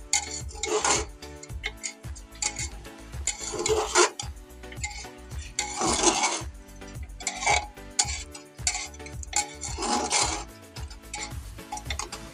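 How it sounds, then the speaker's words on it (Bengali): Dry rice coated in turmeric is stirred in hot oil in a pan. Repeated scraping, rasping spatula strokes come in rhythmic bursts with ticking clinks between them, close and fairly quiet, with no talking. "এই যে এখন কি করলাম, তেলের মধ্যে দেওয়া, এবার এটা ভাজবো একদম"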